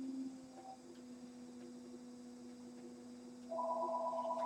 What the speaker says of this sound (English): And now somebody is calling on the phone.